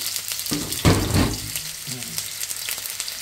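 Sliced onions frying in olive oil in a pan over a flame, a steady close sizzle with a louder crackling burst as they go in, continuing alone without talk.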